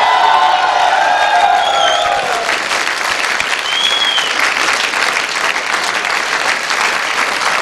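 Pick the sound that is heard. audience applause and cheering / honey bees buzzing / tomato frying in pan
audience applause and cheering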